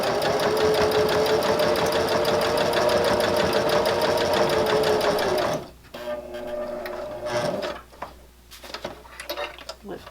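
A sewing machine runs fast and steady while stitching fabric for a jar lid gripper, its rapid rhythmic whir loud and close, then stops abruptly for soft handling noises and clicks as the fabric is turned.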